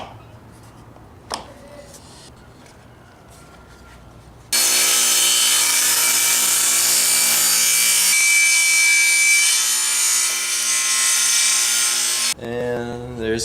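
Cutting a taper on a wooden table leg for a mid-century modern coffee table: a loud, steady power saw cut lasting about eight seconds, preceded by quiet handling noises and followed by brief talk.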